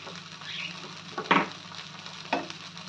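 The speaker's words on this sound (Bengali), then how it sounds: "আদা, রসুন, কাঁচা লঙ্কার যে আমি বাটাটা সেটা দিয়ে আমি ভালো করে কষিয়ে নেব" Ginger, garlic and green chilli paste fries in a pan, a soft sizzle running under a few louder stirring scrapes, with no one talking.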